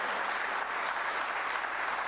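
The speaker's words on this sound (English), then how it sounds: "Shall we welcome her with a big round of applause?" An audience applauds the Minister of Information at a political party expo in Ghana, a dense, steady wash of clapping that holds at an even level from start to finish with no voices standing out.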